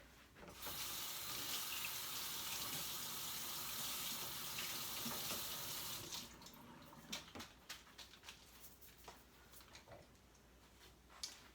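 A kitchen tap runs in a steady, close rush while green onions are rinsed under it. The flow cuts off partway through, leaving scattered drips and small handling clicks.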